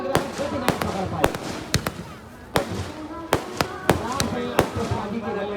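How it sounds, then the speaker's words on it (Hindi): A chakri spinning firework at a Dewa village fair, with sharp crackling bursts and pops firing in irregular succession over a busy background, and voices talking throughout. "और ये देखिए नीचे की तरफ एक चक्री शुरू हो गई है।"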